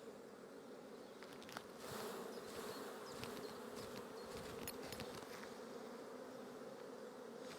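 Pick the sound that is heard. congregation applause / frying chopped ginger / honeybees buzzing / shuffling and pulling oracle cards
honeybees buzzing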